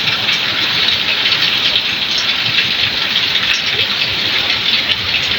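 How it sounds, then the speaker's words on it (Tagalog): Heavy rain from an arriving typhoon pours down in a dense, steady hiss, loud and continuous throughout with no voices. "Para nga ngayon pa lang dumarating yung bagyo."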